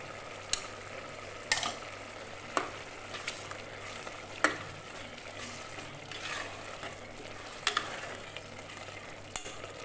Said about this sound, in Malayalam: ഇതെല്ലാം കൂടി ഒന്ന് തിളക്കട്ടെ